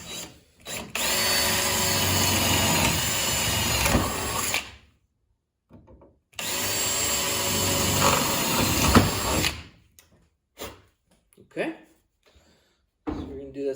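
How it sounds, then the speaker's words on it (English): Power drill with a 3/16 bit drilling out holes in a Willys CJ3B body, two long whining bursts separated by pauses, with short clunks and brief handling noises afterward. "Drill these out."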